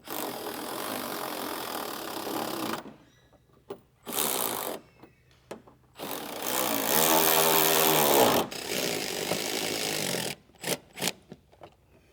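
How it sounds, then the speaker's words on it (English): A power screwdriver drives and tightens screws while Switchback Triple Fang lights are installed on a 5th-generation Toyota 4Runner, in several loud whirring bursts of a few seconds each, separated by short pauses and light clicks. "we're just going to drop a screw right in to each one of these holes. And we'll just tighten it down."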